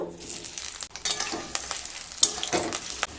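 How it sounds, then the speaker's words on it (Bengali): Cut potatoes frying in mustard oil in a kadai sizzle steadily up close while a utensil stirs them, with repeated scraping and clinking strokes over the hiss. "দুটো মিডিয়াম সাইজের কেটে রাখা আলু ভেজে নেব।"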